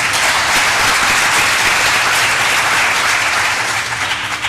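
Loud, sustained applause from an audience at a meeting on whether masking should be optional, a dense wash of clapping that holds steady for several seconds with no talk over it.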